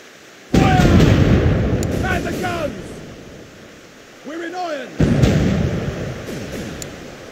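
Ship cannons boom in a naval battle video game, several loud broadband blasts with rumbling tails and whistling shots, close and heavy, alongside game voices calling orders.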